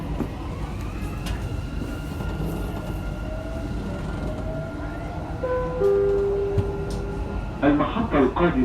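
Dubai metro train running, heard from inside the carriage as a steady low rumble with rising motor whine tones, then a chime and announcement voice near the end.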